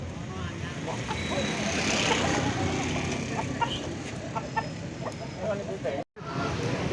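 Chickens at the Pecangaan chicken market in Jepara, Central Java, clucking and calling amid a steady, busy market din, with traffic and voices mixed in throughout.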